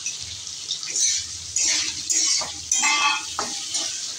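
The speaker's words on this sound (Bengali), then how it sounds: "এটা হালকা নাড়াচাড়া করে নেব" A spice mixture is stirred with potatoes in a pan, a spatula scraping in repeated strokes over a soft sizzle, close and moderately loud.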